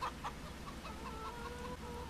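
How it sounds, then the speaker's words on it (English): Speckled hens in the farming video game Farming Simulator 25 cluck softly, with a few short repeated clucks near the start and quieter clucking after that. "Oh, those are some interesting looking hens."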